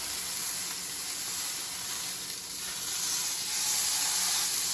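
Beef steak searing in a hot pan, giving a steady, close, broadband sizzle and hiss that holds at an even level throughout, with no voices.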